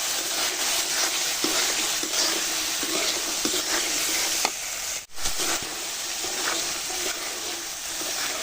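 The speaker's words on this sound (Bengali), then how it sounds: "ভাজছি একদম মচমচে ভাজা হয়েছে, শব্দতেই বোঝা যায়।" Thankuni leaf fritters deep-frying in hot oil give a steady, dense crackling sizzle with small pops and a brief stir around the middle, close and continuous, with no talking.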